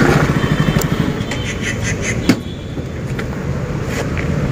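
A motorcycle rides along with a noisy chain and socket, its engine drone steady and close, with faint rattling clicks and one sharp knock partway through, no talk heard.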